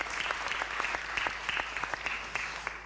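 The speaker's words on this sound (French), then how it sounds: "Ah ben voilà, applaudissements spontanés." An audience at a French talk on patients and participatory research breaks into spontaneous applause: steady, even clapping from many hands, moderately distant, filling the whole stretch without talk.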